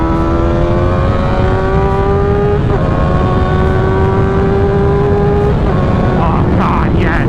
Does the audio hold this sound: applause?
no